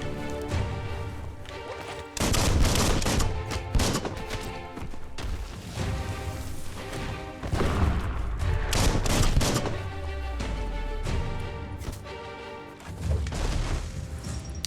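Gunfire and explosions in the action game Biomutant, loud repeated shots and booming impacts layered with combat noise throughout, with no clear pauses.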